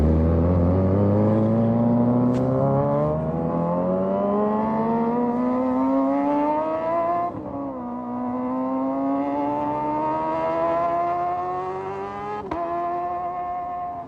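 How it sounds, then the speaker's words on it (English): A 250cc Kawasaki sport motorcycle engine, the 2023 ZX-4R line, revs loudly and climbs smoothly through rising pitch over several gear-like pulls, dipping briefly between them, heard close and continuous with no voices. "after listening to this bike, this is the 250 model, so I can only imagine what the 400 sounds like"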